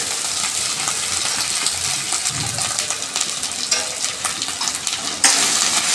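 A paste of ground ginger, garlic and chili with a spoon of turmeric stir-fried in hot oil for a Bhola fish curry, giving a steady close sizzle with scraping stirs that surges louder near the end.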